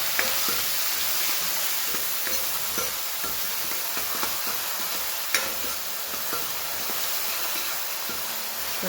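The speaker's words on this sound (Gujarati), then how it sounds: "સરસ આને આછું ગુલાબી થાય ત્યાં સુધી સોતે થવા દઈએ." Green onion, garlic and green chillies sautéing in hot oil with cumin and asafoetida, a steady close sizzle with occasional stirring clinks and scrapes of the spoon, no voices.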